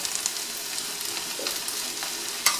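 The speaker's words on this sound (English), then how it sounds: "try to mix the onions with it and the oil with the turmeric so that it all gets that sort of even yellow color" Onions with turmeric sizzle in hot oil in a frying pan while being stirred, a steady close crackle with occasional scraping clicks and one sharper knock near the end.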